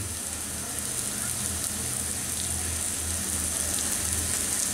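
Onions sizzling in a pan over high heat, a continuous close crackle and hiss with a low hum underneath, steady from start to finish.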